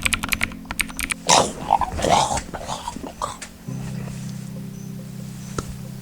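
Computer keyboard typing clicks in quick bursts at the start, then a humming tone and other sounds take over, with a voice speaking in between.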